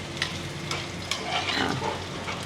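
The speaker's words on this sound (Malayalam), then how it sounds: "കുതിർത്ത് വെച്ചേക്കുന്ന അണ്ടിപ്പരിപ്പും കൂടി തട്ടുകയാണ് കേട്ടോ" Soaked cashew nuts fry in a pan with a steady, close sizzle, broken by light scraping and stirring sounds and a few sharper crackles, with no talking.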